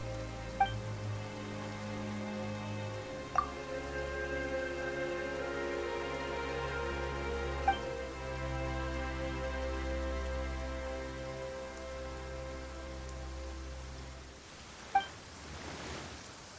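Rain falls in the video game Genshin Impact as a steady, soft hiss that spreads across the whole clip under sustained musical tones, with a few brief chime-like accents.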